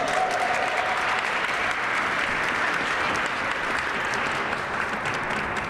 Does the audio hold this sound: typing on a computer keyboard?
no